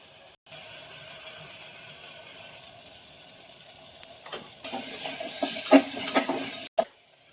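Garlic and coconut paste sautéing in a hot pan, a steady sizzle and hiss with scraping stirs that grows louder and brighter midway, then cuts off abruptly.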